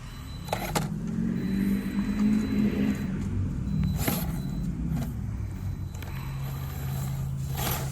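A Redcat Ascent-18 Scout RC crawler's small electric motor revs in short bursts while trying to climb over a hump, a whiny buzz rising and falling close by, with light clicks and rattles from the chassis.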